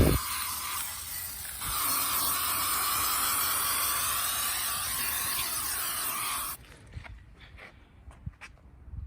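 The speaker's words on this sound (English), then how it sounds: "let's just go ahead and spray this around the wheel" A steady aerosol tire shine spray hisses around a car wheel for several seconds, then cuts off, followed by a few light taps and handling noises.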